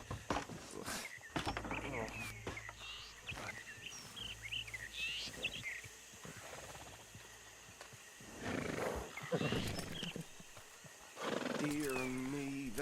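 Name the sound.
horse-drawn wagon, horses whinnying and hooves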